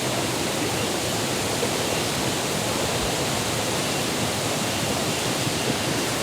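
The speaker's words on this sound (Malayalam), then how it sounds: "പുഴയുടെ നല്ല ശബ്ദവും കിളികളുടെ ശബ്ദവും" A river rushes past in a steady, full roar of flowing water, close and constant without pause, no voices present.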